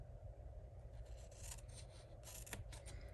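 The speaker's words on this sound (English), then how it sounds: "I'm going to go ahead and do an angle cut for these squares here." Scissors snipping through cardstock at an angle, a few faint, close crisp cuts and light scraping over a low steady background hum.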